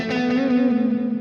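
An electric guitar played through a Cube Baby multi-effect pedal on a preset with reverb: one held, distorted, chorus-washed chord rings steadily and close, shimmering with a slight wobble, without any talking.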